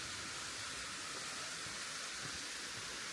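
Waterfall near Barrhead Reservoir, a steady broadband rush of falling water that stays even and unbroken throughout, fairly quiet and continuous with no voices.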